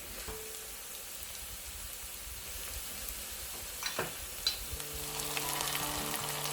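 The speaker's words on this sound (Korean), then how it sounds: "풍미가 좋은 파마늘 기름을 만들 건데요. 얘들이 빨리 타기 때문에 중간 불에 한 20초 정도 볶아준 다음" Chopped scallions and garlic fry in oil over medium heat, giving a steady close sizzle with light stirring scrapes and a few louder crackles.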